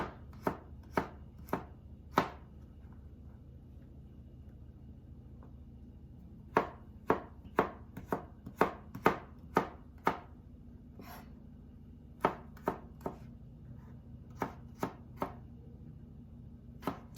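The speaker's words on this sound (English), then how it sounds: "I'm going to slice these up a little bit" A knife slices vegetables on a cutting board for a low-carb chickpea and veggie noodle salad, giving crisp, close chopping taps in quick bursts separated by pauses.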